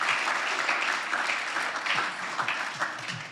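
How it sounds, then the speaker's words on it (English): Applause at an all-team company meeting for an absent colleague, a steady moderate clatter of clapping sustained throughout, somewhat distant and even, with no voices over it. "round of applause for Caden so we can see this later when he watches the recording"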